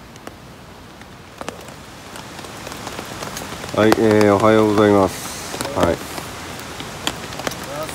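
Morning rain falls steadily on a DD tarp at a headwater riverside campsite, a continuous soft hiss and patter. A man briefly greets viewers midway through.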